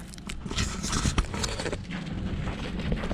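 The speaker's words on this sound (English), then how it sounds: "And goats running by as well." Goats run past in the Mauritanian desert, their hooves making a quick, scattered patter of steps close by, with wind rumbling across the microphone.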